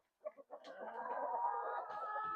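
Farm chickens give a few short clucks, then settle into a steady, drawn-out rising call that carries on to the end, fairly close but quiet, with no voices.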